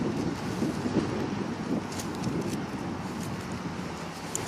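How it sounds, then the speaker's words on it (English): Wind gusting outdoors and buffeting the microphone in a steady, rumbling roar that persists throughout, with faint higher crackles from the moving air. "It's windy out here."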